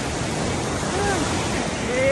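Large ocean waves crash and roar steadily on a beach in Pangasinan, a broad continuous wash of surf with wind noise throughout.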